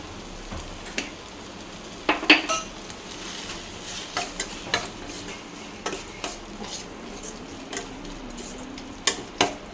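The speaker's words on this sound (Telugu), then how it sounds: "ఇలా బాగా కలుపుకొని ఇది కొంచెం ఫ్రై అయ్యేదాకా చూసుకోవాలి" A spoon stirs tomato curry with coriander powder in a pan, with repeated close scraping clicks and knocks against the metal over a faint, steady frying sizzle and no voices.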